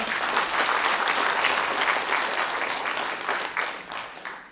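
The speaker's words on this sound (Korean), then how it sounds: "그분 엄청난 어른이라고 박수 한번 쳐드려야 되는 거 아닙니까?" A crowd at an award ceremony applauding steadily, dense clapping that holds loud for several seconds before tapering slightly at the end.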